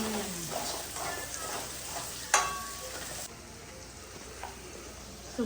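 Green garlic and green onion fry in an oiled pan with whole spices for a green turmeric vegetable dish, a close, moderate sizzle with a sharp crackling burst partway through that then settles into a quieter, steady hiss.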